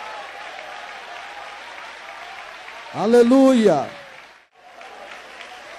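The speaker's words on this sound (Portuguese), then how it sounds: "Pode dar aplausos para Jesus." Congregation applauding at a Pentecostal church service, a steady wash of clapping throughout while a voice calls out over it, dipping briefly near the end before resuming.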